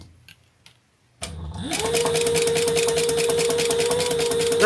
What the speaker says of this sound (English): So we're going to put the wrong sides together and sew around.